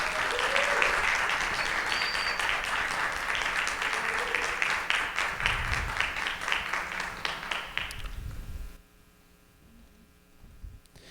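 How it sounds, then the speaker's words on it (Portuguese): An audience welcomes women filmmakers onto a panel with warm applause, steady dense clapping that thins into scattered claps and fades to near silence with a faint electrical hum near the end. "Recebam elas com muito aplausos"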